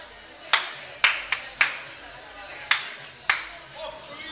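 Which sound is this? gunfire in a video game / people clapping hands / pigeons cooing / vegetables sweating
people clapping hands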